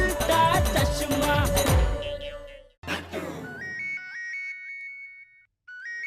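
Electronic phone ringtone signalling an incoming call, a melodic chiming tune repeating clearly and fairly loud after a burst of music, with short pauses between phrases.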